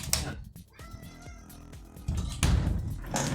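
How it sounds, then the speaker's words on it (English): A pet cat meows a few times up close indoors as it is let out of a room, with short vocal calls and rustling, a louder burst of household movement near the end. "let me let my cat out"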